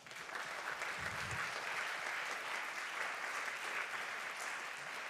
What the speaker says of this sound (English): I would like to ask for a round of applause for the candidates for coming out tonight.